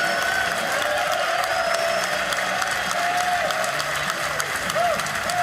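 Bowling crowd at a PBA stepladder final breaks into steady applause after a strike, continuous clapping filling the arena for several seconds while announcers talk over it.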